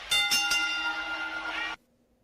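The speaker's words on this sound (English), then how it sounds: "where's the ring bell?" Wrestling ring bell struck three times in quick succession, loud and close, its bright metallic ringing sustaining before cutting off abruptly.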